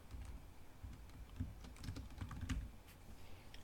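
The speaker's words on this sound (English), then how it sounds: "in all caps, we're simply going to type the title of our paper" Fingers tap out a title on a computer keyboard in quick irregular bursts of close, light clicks, heard alone without talk.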